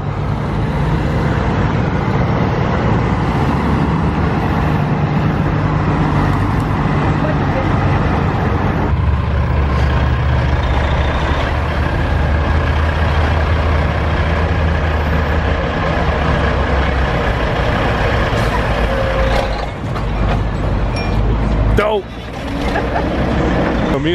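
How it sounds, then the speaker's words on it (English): Heavy log trucks loaded with gear and logs rolling in and parking in an arena at a lumberjack log show, a steady loud rumble of engines close by, with people talking throughout. "all the log trucks come with their gear and logs, as you might imagine,"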